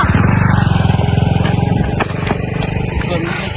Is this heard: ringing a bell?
no